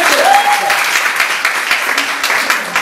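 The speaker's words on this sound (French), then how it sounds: "Applaudissez pour les plus belles." A school audience at a college beauty pageant applauds steadily and loudly, with a faint tonal whistle-like sound briefly riding over the dense clapping near the start.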